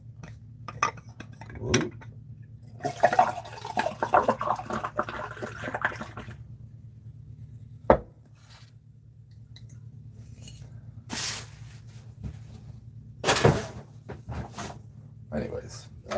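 Liquid poured from a bottle in a kitchen-like setting, a soft splashing run of a few seconds with occasional dish and cutlery clinks; someone talks around it.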